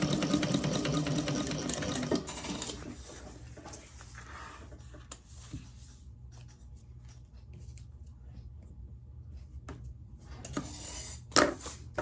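Sewing machine running a short basting seam across the top of a sewn piece, a quick burst of stitching at the start that then gives way to quieter handling noises and small clicks.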